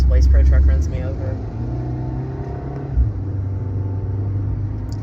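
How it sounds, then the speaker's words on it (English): A Waste Pro garbage truck drives alongside in city traffic, its heavy engine giving a steady low rumble close by, louder at first and then holding level, with a brief thump partway through and a voice talking over it. "if this Waste Pro truck runs me over"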